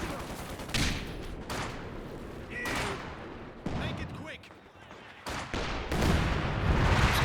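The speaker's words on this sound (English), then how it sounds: "And that sounded like a heavy barrage." Heavy artillery barrage in the Company of Heroes 2 real-time strategy game, a 2v2 match: repeated booming shell impacts and a rumbling roll of explosions through most of the stretch, loud and dense, with gunfire mixed in and a voice talking over it.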